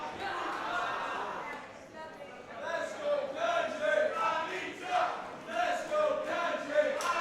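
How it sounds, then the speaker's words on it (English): A crowd at an ATTACK! Pro women's wrestling match roars and chants in rhythmic surges, sustained and lively, while a commentator talks over it. "listen to this crowd"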